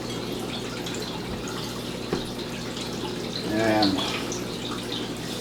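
Aquarium sponge filter driven by a powerhead draws water through steadily, a low continuous hum and bubbling wash with a brief burst of gurgling splashes midway; a single spoken word is heard.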